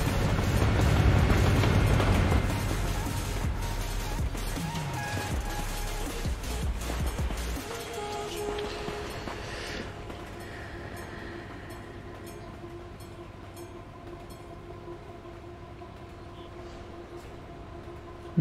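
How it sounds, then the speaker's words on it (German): A newer train rumbles past in the truck-driving game Euro Truck Simulator 2, loud and close at first with clattering wheels, then receding over several seconds into a fading hum. "Oh, schade, das ist ein neuerer Zug"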